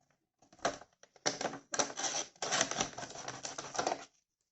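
Scissors cut into a piece of denim for a moodboard card in a quiet room, a run of short crisp snips and crunches in quick bursts, close and fairly soft, with no voice over them.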